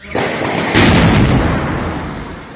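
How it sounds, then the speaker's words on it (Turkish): A violent blast at the ground-floor entrance of an apartment building during an armed terror attack on a police checkpoint in Payas, Iskenderun, Hatay, following gunfire; two loud booming bursts, the second heavier, with a long rumbling decay and no speech. "Önce çatışma sesleri, ardından bir apartmanın giriş katında şiddetli bir patlama sesi duyuldu."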